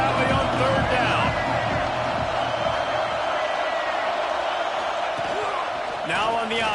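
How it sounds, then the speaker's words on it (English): A big football stadium crowd roars in Happy Valley in a college football video game, a loud, sustained wall of cheering and noise that swells on a key down, with announcer commentary heard over it. "Here comes the noise from this big crowd in Happy Valley on 3rd down."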